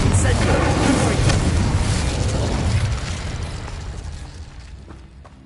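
A Confringo fire-blast spell goes off in Hogwarts Legacy, a loud, dense roaring explosion that fills the opening seconds and then slowly fades away.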